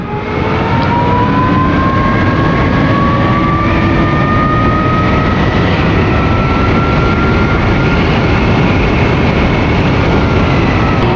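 Hero Vida V1 Pro electric scooter in sports mode at top speed on a straight road, a steady loud rush of wind and road noise with a rising motor whine running throughout.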